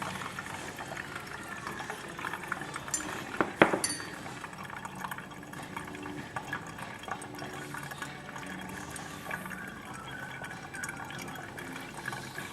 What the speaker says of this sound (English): it's dumping out all that water that you have stored inside your